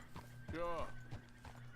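A Missouri Foxtrotter horse in Red Dead Redemption 2 gives a short whinny at close range, framed by a few clip-clop hoof steps over a low game background hum.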